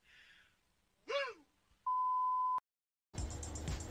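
A short vocal whoop, then a steady electronic beep held for under a second, followed by a sudden cut into noisy sound.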